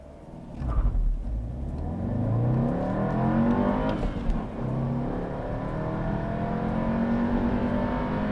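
A 2016 Volkswagen Golf TSI turbo with a five-speed manual accelerates hard from a standstill to 60 mph, its engine note climbing in pitch through gear changes, loud and steady from inside the car.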